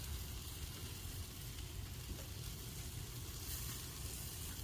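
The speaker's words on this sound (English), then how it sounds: "jalapenos on this baby. Sauteed in butter" Jalapenos sautéing in butter in a pan, a steady dense sizzle that holds at an even level throughout, with no voices.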